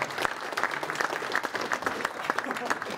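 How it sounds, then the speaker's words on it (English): An audience bursts into applause, a dense patter of many hands clapping at once that stays fairly even throughout. "Bobby Razak, round of applause."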